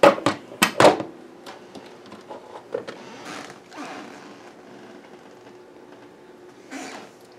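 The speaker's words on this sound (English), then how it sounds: "This is always the fun part of opening a pressure cooker." A pressure cooker lid being opened, with a few sharp metallic clunks and clicks up close, then softer scraping and handling sounds that fade, ending with a brief rustle.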